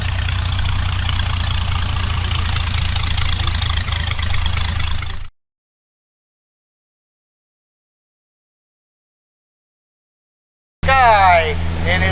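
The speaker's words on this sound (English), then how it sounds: "Pilot Ken Cass, 1918 Fokker D7, powered with an original 200 horsepower Mercedes 6-cylinder engine" The original 200 hp Mercedes six-cylinder engine of a 1918 Fokker D7 biplane idles with a steady, rough low rumble for about five seconds, then cuts to silence before a brief loud burst returns at the end.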